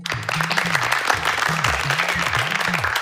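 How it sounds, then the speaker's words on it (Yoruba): An audience at a Yoruba children's counting game claps in a dense, continuous burst of applause, loud and close, while a voice hums or talks faintly underneath. "ẹ bá ń pàtẹ́wọ́ fún"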